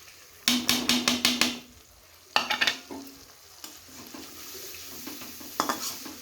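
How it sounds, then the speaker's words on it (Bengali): Spices being stirred and sautéed in a pan with water for a pointed gourd and fish curry: a rapid run of sharp scraping stir strokes over a soft sizzle, then a few shorter bursts of stirring, close and alone. "এবার কষিয়ে নিব আমি।"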